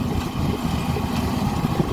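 A hired tractor at a rice harvest idles with a steady low rumbling engine drone, close and continuous with no break.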